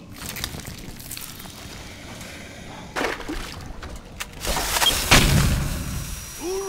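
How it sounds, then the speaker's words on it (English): Explosion in the video game Aliens: Colonial Marines during a team deathmatch online match, a muffled boom building around the middle and swelling into rumbling blasts with scattered thuds, at moderate volume over steady game noise. "Explosion now."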